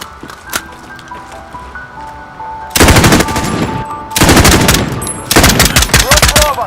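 Machine gun fire in Modern Warfare rips out in three loud, close, rapid bursts after a quieter stretch of ambient game sounds and tones.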